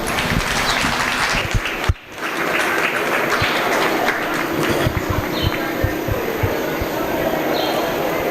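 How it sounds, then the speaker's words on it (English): Loud, continuous crowd applause in a dairy cattle show arena, a dense clapping wash with scattered sharper claps and a brief dip in the middle, with no speech over it. "Go ahead and give everybody a round of applause."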